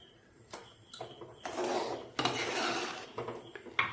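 Pineapple jam bubbling in a pot while a spoon stirs it, giving irregular scraping and clinking of metal against the pot at close range, with a few sharper knocks.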